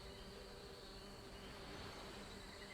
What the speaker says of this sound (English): There are bees buzzing around all over the place